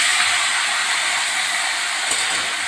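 Chopped bottle gourd sizzles in a hot pan, giving a loud, steady broadband hiss with no pauses.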